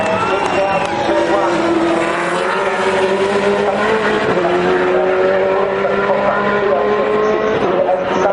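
A V8 Supercar laps Mount Panorama at Bathurst during the 2011 top ten shootout, its engine roaring loud and close throughout with continuous revving and rising pitch through the gears.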